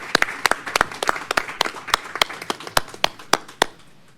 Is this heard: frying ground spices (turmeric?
no